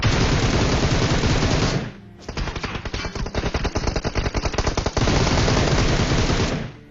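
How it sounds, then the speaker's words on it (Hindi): Heavy automatic gunfire in a battle royale video game: dense, loud continuous fire, a brief lull, then rapid rattling bursts before sustained shooting resumes to the end. "फिलहाल यहाँ पे फायरिंग इतनी हो रही कि पता नहीं चल रहा"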